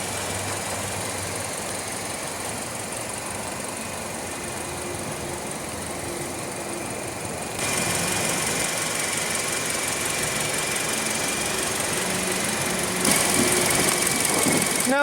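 A 2016 Hyundai Elantra's 1.8-liter inline four-cylinder running at a steady idle, a low continuous hum and rumble that grows a little louder and fuller midway through, with no talking.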